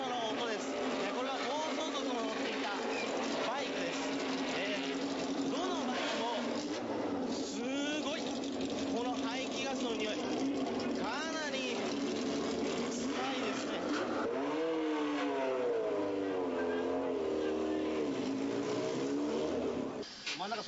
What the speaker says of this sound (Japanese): これが改造車の音です。